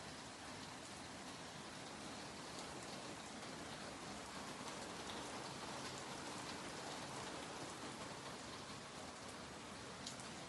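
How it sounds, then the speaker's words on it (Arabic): Steady heavy rain pours down without a break, a dense even hiss close by with no voices over it. "المطر زاد والله"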